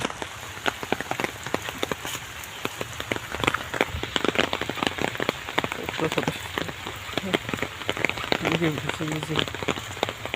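Steady rain pattering on surfaces with dense, irregular drops throughout, and a voice faintly audible in the background.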